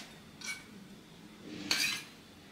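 A spoon clinking twice against a pot while ghee is added to besan roasting for Diwali besan ladoo, two short faint metallic taps in an otherwise quiet kitchen.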